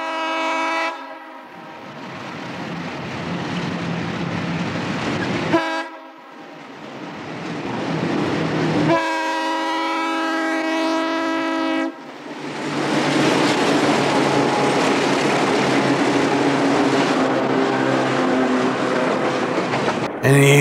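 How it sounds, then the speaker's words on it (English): Northbound Delaware & Hudson freight train led by an RS-36 diesel locomotive, with long loud horn blasts broken by short pauses over a steady rumbling engine and rolling wheels, close and sustained. "There's a northbound at KY Cabin, one of the RS-36s leading a clubfoot."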